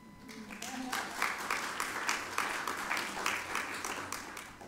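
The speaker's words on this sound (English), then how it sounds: "I think that needs an applause." Audience applause follows a call for recognition of a liberal arts in engineering program at a poetry event, with dense, steady clapping at moderate distance for several seconds.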